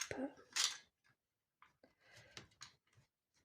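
A cutter knife slices through paper while a decorative box is made for scrapbooking: a few short, close scraping strokes with brief quiet gaps between them.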